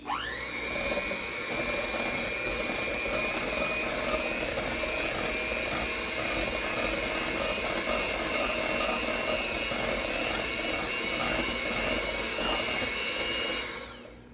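A steady, loud mechanical whir from an electric mixer blending sweet potato mash for a pie runs continuously for about fourteen seconds, then cuts off near the end, with no talking.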